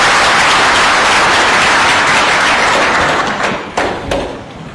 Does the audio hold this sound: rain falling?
no